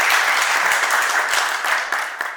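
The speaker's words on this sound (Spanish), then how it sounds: "Un aplauso para la generala Cabal" An audience claps for General María Fernanda Cabal on a podcast, a close burst of lively applause with a few distinct hand claps that fades slightly at the end.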